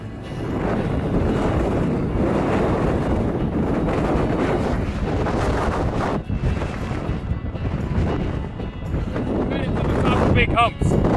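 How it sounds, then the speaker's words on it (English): Strong gusty wind roars steadily across the microphone on a mountain section of the Appalachian Trail near Damascus, Virginia, a dense, buffeting rush that never lets up for the whole stretch. "Needless to say, it's still pretty windy out."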